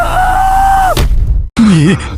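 A loud, drawn-out cry breaks off abruptly, followed by a thud and a short wavering, anguished wail.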